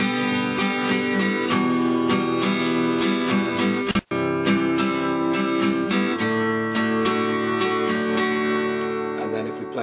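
Acoustic guitar strummed in a steady rhythmic pattern, bright repeated chord strokes ringing continuously with one short gap midway, played alone with no talking.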